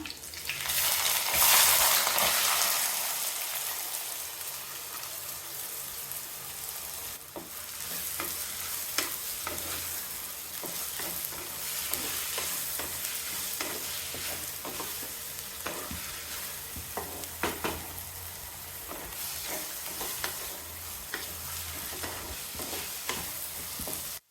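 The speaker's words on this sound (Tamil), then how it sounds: "பெரிய வெங்காயம் 6 வெங்காயம் கட் பண்ணி வச்சுருக்கேன்," Six chopped big onions fry in oil with popped mustard seeds for a Kerala-style egg pepper roast; a steady sizzle runs throughout, loudest at first, with frequent spatula scrapes and taps as they are stirred.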